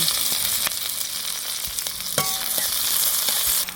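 Onion, black peppercorns, green cardamom and other whole spices sizzle steadily in hot oil in a wok, a dense continuous crackle with a few scraping stir sounds, close and alone without talk.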